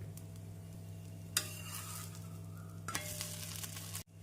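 A varagu (kodo millet) rice dosa fries in oil on a pan with a steady close sizzle, flaring into two brief louder hisses before cutting off abruptly near the end, no voices.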